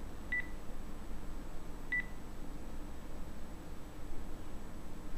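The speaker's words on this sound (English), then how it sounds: "Now you hear me hitting this button." Two short keypad beeps from a Time Warner Cable home phone, spaced about a second and a half apart, clear over a steady faint background hiss.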